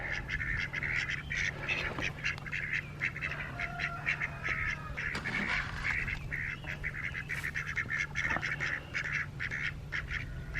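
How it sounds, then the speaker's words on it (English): A flock of Indian runner ducks quacks and honks continuously at moderate distance, busy overlapping calls with a low steady hum behind them. "Hello, ducks."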